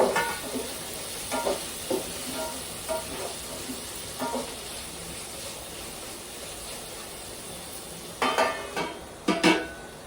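A spoon stirs semiya (vermicelli) for upma in a frying pan, with soft background sizzle and scattered scraping clicks, including a louder cluster of scrapes near the end, with no talk.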